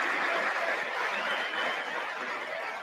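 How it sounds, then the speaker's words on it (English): Crowd applause in a played recording, a steady even wash of many hands clapping at moderate distance, continuous for a few seconds with no voices on top. "The clapping."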